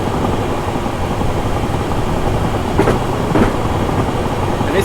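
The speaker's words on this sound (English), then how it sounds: "Now this train is not very fast, as you would expect from a stopping service." A slow stopping-service train in Train Simulator 2018 rumbles steadily along the rails with a constant low roar, broken by a couple of faint rhythmic clicks near the end.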